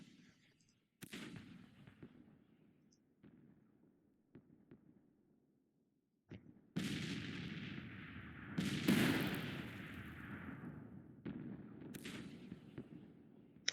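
Civil War musket volleys and artillery booms roll across a huge Bull Run battle in a strategy game, scattered distant cracks building into a loud sustained rumble of massed fire with heavy thuds.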